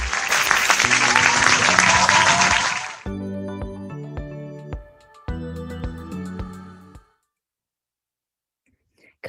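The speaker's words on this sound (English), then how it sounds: "So a round of applause for everyone." An online audience breaks into dense, energetic applause for the winning clusters, lasting about three seconds. It stops abruptly and gives way to a few short, plucked musical chimes, then silence.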